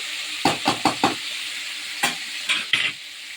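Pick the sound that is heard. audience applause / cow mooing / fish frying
fish frying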